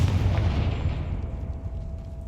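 A single heavy Confringo explosive spell blast from Hogwarts Legacy, a loud, close boom that rolls off into a fading rumble over about two seconds.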